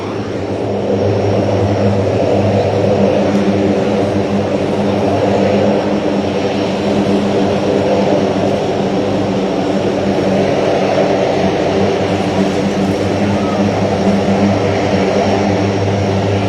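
Propeller aircraft approaching, a loud, steady drone of engines and propellers that fills the whole stretch with no break, holding close and strong throughout.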